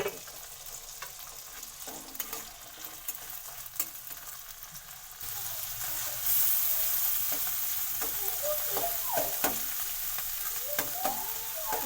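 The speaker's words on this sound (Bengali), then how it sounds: "অল্প একটু হলুদ গুঁড়ো দিব আর হালকা লবণ দিয়ে মাছটাকে আমি ভেজে নেব।" Fish seasoned with turmeric and salt frying in a pan, a steady sizzle that grows louder and brighter partway through, with crackling pops and occasional stirring close by.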